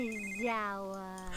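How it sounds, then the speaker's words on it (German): A mobile phone ringing in the life-simulation game The Sims 3: a sustained, buzzy electronic ringtone with a slight pitch wobble, playing steadily and fairly loud for its whole length, with no one talking over it. "Oh, sein Handy klingelt."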